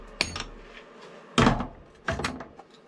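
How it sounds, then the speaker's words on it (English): A hammer striking in a metal workshop during work on a metal bandsaw, three separate sharp knocks with quiet gaps between them, close and fairly loud. "Let me just grab my whacker,"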